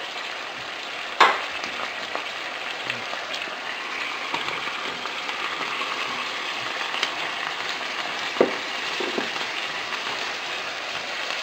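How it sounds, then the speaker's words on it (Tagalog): Cauliflower frying in a pan for squid ball chop suey, a steady broad sizzle throughout with a few sharp clinks or stirring knocks, close and fairly quiet, no talking. "Ilalagay na rin natin yung cauliflower."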